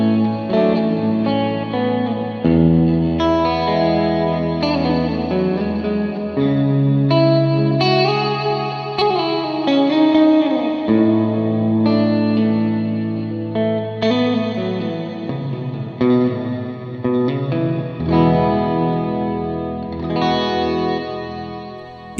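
An electric guitar played through an AMT V1 preamp and a reverb effect pedal, sustained chords and melodic notes ringing out with lush chorus-like wash and long reverb tails, played alone without talking.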